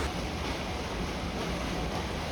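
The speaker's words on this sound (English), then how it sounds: "as I'm sat watching boats go down the river in the former capital of the country" Boats moving along a river in a former capital city in China, heard as a steady, continuous wash of water and wind rumble, with broadband surf-like noise and no talk.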